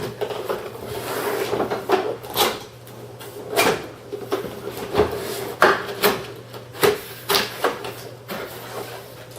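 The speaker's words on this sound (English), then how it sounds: "Giant box, let's go ahead and open it." A large cardboard box for a G&G FNC airsoft rifle is opened up close, with scraping, rubbing and flap thumps, plus a series of short knocks and rustles as the packaging is handled.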